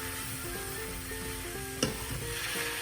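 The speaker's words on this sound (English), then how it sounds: "So I will add the tomato puree of around 2 tomatoes." Tomato puree sizzles in a pan of potato and aubergine for an Indian sabji, a soft close frying hiss with one sharp splash or clatter near the middle and no speech.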